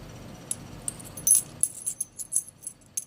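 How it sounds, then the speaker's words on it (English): Light metallic clicks and a few bright chinks as small silver coins tap against each other, quiet and close, after a brief rustle. "if I click these two coins together"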